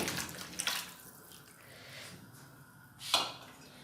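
Goat trotters splash into a pot of water in a home kitchen, with short sloshing bursts near the start and a sharper splash near the end, quiet and close, with no talk over it.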